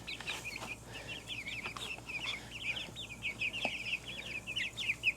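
Several chickens on a backyard farm cluck and call in a steady, busy run of short, fairly near notes over low background hum, including aggressive white hens.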